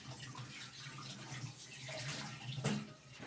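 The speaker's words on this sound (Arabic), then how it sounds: "اغسل الخضره كده اهو" Tap water runs steadily while vegetables for a salad are washed, a continuous close splashing rush with a small knock near the end.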